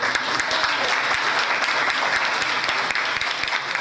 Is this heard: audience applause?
yes